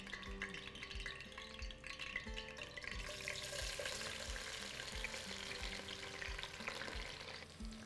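Slices of lotus stem (nadru) fry steadily in hot mustard oil for a Kashmiri rogan josh, giving a continuous loud sizzle with bubbling crackle, and a rhythmic clink of stirring repeats about twice a second throughout.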